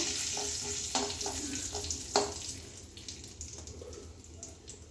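Carom seeds sautéing in a pan make a faint, soft sizzle with a few light clinks and scrapes of stirring, fading a little toward the end.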